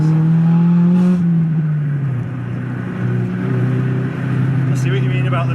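Engine and exhaust drone of a Honda Civic Type R EK9 being driven, a loud low hum heard from inside the car with people talking over it.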